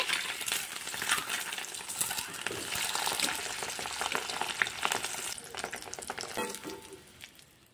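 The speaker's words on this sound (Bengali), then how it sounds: "সবগুলো ডিম দিয়ে দিয়েছি, এবার ভেজে নেব।" Eggs frying in hot oil in a pan for a hotel-style egg curry, a steady loud sizzle and crackle with scattered pops and clinks of utensils, fading slightly near the end; no talking.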